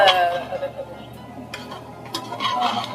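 Country chicken pieces are sautéed and stirred in a pan for a home-cooked biryani and fry, with close, irregular scrapes and clinks of a utensil against the pan over a faint low hum.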